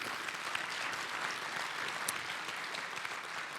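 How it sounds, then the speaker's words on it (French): Audience applause in a lecture hall after a French panel debate on taxing multinationals, steady broadband clapping from a crowd lasting the whole short stretch, fairly distant and uniform, with no voices over it. "Vous pouvez l'applaudir."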